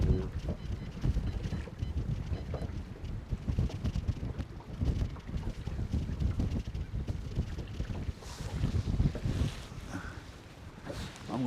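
Wind gusting across a lake during a windy winter day of boating after a cold front, a steady broadband roar buffeting the microphone with fluctuating low rumble and no clear talk.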